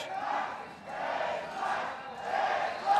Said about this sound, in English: We're going to let the crowd take over for a second.